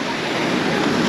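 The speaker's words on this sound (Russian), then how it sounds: "Дует ветерок." Steady wind gusting at a Black Sea beach at Lazarevskoye with surf washing in behind it, a continuous broadband rush with no voices.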